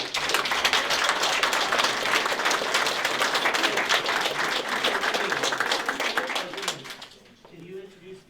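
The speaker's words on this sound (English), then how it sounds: "They deserve a round of applause" Audience applause fills a room at a community meeting, dense steady clapping for about seven seconds before thinning out and fading near the end.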